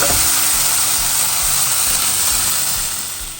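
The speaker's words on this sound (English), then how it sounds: "can you hear the sizzle?" Loud, steady sizzling of garlic mushrooms stir-frying in a hot pan, a bright hiss that fades slightly toward the end, close up.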